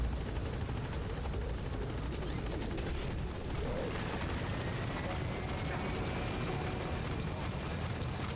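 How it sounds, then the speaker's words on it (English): A helicopter flies overhead outside the city, its rotor producing a steady, dense roar that stays loud and unbroken throughout. "There's always helicopters and stuff flying around here, like, all the time."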